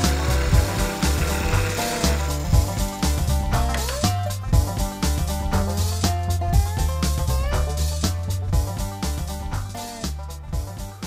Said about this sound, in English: it's a scraper, and move slightly, move gently forwards and backwards